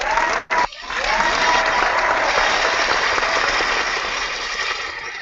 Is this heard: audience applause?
yes